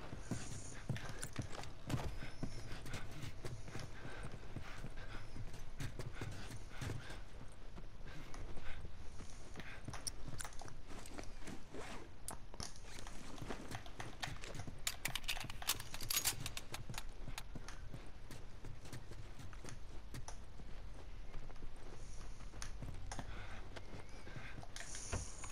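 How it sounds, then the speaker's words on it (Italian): Horse hooves clip-clop steadily in The Last of Us, a continuous walking rhythm with occasional snorts set against a dense game ambience, with no talking. "Torniamo ai cavalli."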